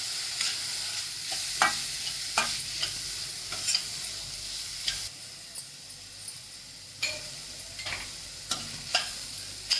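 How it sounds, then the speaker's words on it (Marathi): Chopped tomato being stirred into a frying peanut curry (shengdanyachi aamti) in a pan, with a steady soft sizzle and a string of distinct spoon scrapes and stirring knocks spread through the clip. "टॉमॅटो टाकते एक चिरलेला ते पण चांगलं मिक्स करून घेतो"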